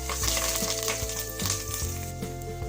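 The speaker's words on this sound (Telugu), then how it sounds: "అలాగే కరివేపాకు వేసుకోవాలండి." Curry leaves and green chillies sizzle and crackle in hot oil for an egg biryani, a steady close frying hiss with stirring scrapes, no talking.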